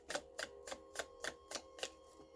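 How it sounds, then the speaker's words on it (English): A deck of tarot cards being shuffled, giving eight crisp, evenly spaced riffling snaps in a steady rhythm, close and fairly quiet with no voices. "I think I'm having fun shuffling the deck now"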